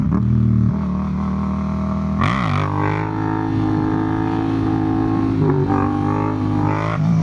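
Yamaha MT-07 naked motorcycle engine under way, loud and close, with steady harmonic drone rising and falling through gear changes and throttle blips.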